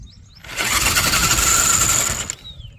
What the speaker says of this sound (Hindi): इसको एक बार चला के दिखा देता हूँ आपको। इसका जो टॉर्क है ना वो काफ़ी ज़्यादा है